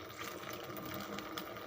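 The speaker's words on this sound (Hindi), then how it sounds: "तो एक पीस हमने फ्राई करने के लिए घी में डाल दिया है।" A bread potato slice fries in hot ghee over a medium flame, giving off a steady, close, continuous sizzling hiss with no talking.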